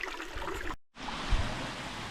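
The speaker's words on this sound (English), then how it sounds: "That is the babbling brook." A babbling brook beside a forest trail in Pennsylvania gives a steady close trickle and gurgle of running water, broken by a brief dropout before the flow resumes.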